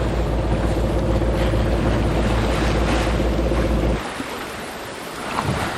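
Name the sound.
sailboat motoring under engine at night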